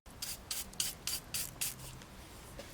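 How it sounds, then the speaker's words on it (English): A hand file works the centre out of a machined metal MAF housing for a Volvo 940, in six regular rasping strokes heard up close, with a short pause between each stroke. "Right, so I've just filed the centre out now."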